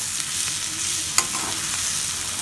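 Cluster beans coated in gram flour and chili powder fry in a pan while being stirred, a steady close sizzle with one sharp scrape of the spoon partway through.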